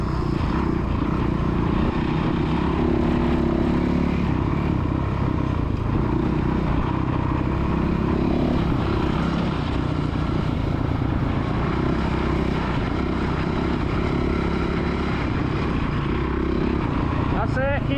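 Kids' motocross bikes on the Astley MX main track, a loud sustained engine drone revving close by throughout, with a coach's voice calling out over the noise.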